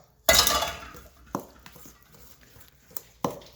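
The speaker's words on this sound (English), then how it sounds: "Keep mixing and mixing and mixing." Plain muffin batter is mixed in a bowl by hand, the utensil clinking sharply against the side a handful of times with soft stirring in between, close and fairly quiet.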